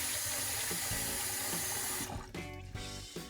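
Tap water runs steadily into a pot of rice being rinsed, a broad continuous splash that cuts off partway, leaving hollower clinks and swishes of rice and water in the pot.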